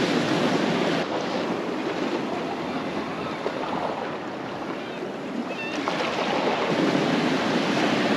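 Strong wind blusters across the seashore mic while fishing from the coast, a constant broad roar with surf washing underneath and no voices.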